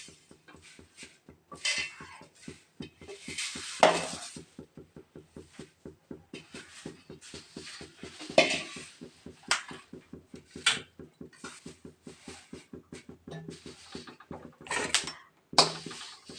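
Moringa leaves being dry roasted a little at a time in a pan over a low flame, with a quick, regular clinking and scraping of the spatula and sharper knocks now and then, quiet throughout.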